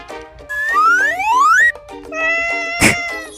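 A cat meows in an alphabet phonics lesson for children: rising, sweeping tonal cries stretched over a few seconds, with a short burst near the end, loud and clear with no talking.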